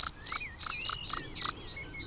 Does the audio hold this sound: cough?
no